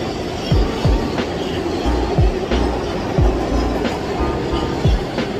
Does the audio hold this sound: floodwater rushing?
no